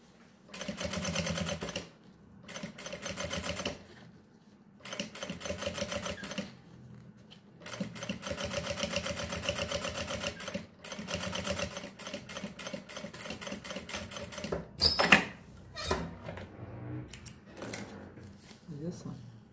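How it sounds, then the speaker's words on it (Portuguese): A sewing machine stitches a seam on a fanny pack in short repeated bursts of rapid mechanical chatter, separated by pauses, with someone talking between the runs. "Tô usando o mesmo espaço do calcador, que sai daí uma costura bem retinha, bem bonita"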